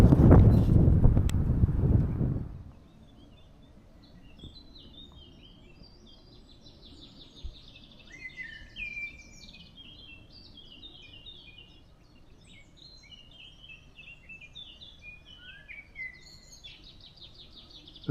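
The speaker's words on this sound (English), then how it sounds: "I get into the birds singing in the trees." Birds sing in the trees along the EuroVelo 15 cycle route, with varied chirps and trills that come and go, fairly faint over light wind, after a few seconds of loud rumbling wind noise at the start.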